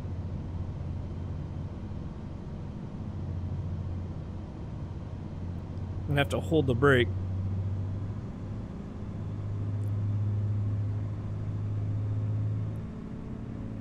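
Twin engines of a Piper PA-31-350 Chieftain in FSX run up to 2300 RPM with a steady low droning hum throughout, briefly dipping and swelling, while someone talks over it for a moment.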